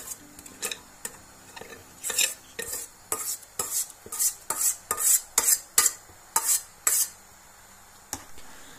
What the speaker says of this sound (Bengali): আমি সিদ্ধ করা পোলাওর চালটা দুধের সাথে মিশিয়ে দিচ্ছি।